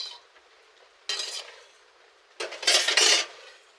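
Okra tipped into a pan with fish roe and onion paste, giving two loud bursts of sizzling with metal stirring and clinks against the pan, separated by a quieter stretch and fading at the end.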